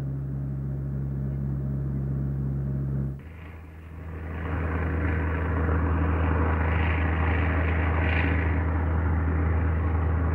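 Engines of a PBY Catalina flying boat drone at night, a steady low rumble that dips briefly, then swells into a fuller, louder roar that continues to the end.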